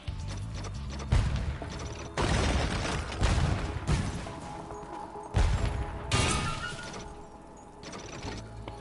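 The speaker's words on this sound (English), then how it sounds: "I'm going to blow things up with a cannon instead." In Spyro 3 Reignited, cannon shots blast objects apart, a series of loud booming crashes with shattering debris at irregular intervals, each followed by decaying rubble.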